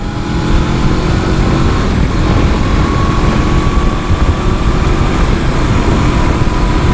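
A 2023 Honda CB500X motorcycle pulls away in fourth gear as the throttle rolls on, producing a steady, loud engine drone mixed with heavy wind rush that runs the whole time without pause.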